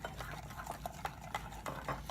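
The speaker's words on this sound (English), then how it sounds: "Let me stir it up for you." Sauce for fettuccine being stirred in a pot, a series of soft scraping and wet swishing strokes in an irregular rhythm, close and fairly quiet, with no talking.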